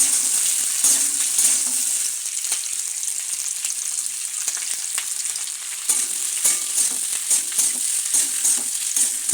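Onions, green chillies and garlic fry in a pan with a steady, close sizzle, broken by scattered stirring scrapes and small clicks throughout, with no voices.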